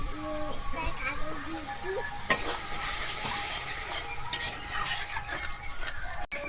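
Water splashes into a pan of cashew and melon-seed paste frying for a vegetarian Bengali young-jackfruit and potato curry, setting off a loud, steady sizzle with stirring and clinks of utensils, under a voice talking at the start.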